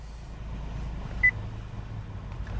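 A single short electronic beep from a 2012 Acura TSX Sport Wagon voice command system sounds once over the low rumble of the car interior.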